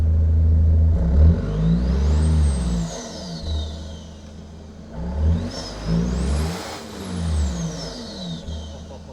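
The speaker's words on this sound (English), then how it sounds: "Give her a bit of a rev there." Isuzu D-MAX pickup truck engine fitted with a stainless snorkel revved several times, rising and falling in loud throaty surges with a turbo-like whine climbing on each rev, then easing back to idle.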